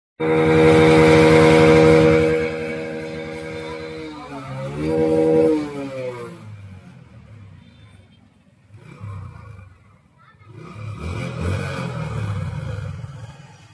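A motorcycle that puffs white smoke after a half-bore engine repair runs up close. It idles loudly with a steady drone, revs once, then settles to a quieter, uneven running.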